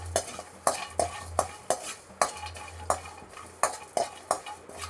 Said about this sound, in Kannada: ಇದನ್ನು ಚೆನ್ನಾಗಿ ರೋಸ್ಟ್ ಮಾಡ್ಕೊಳ್ಳೋಣ.